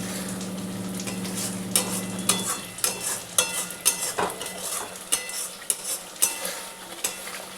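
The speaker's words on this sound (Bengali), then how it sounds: "এবার এর মধ্যে আমি ছোলা সেদ্ধটা ঢেলে দিলাম বন্ধুরা।" Boiled black chickpeas tipped into a frying pan of well-cooked masala, with a steady hum giving way to repeated spoon scrapes and clatters against the pan over a soft sizzle.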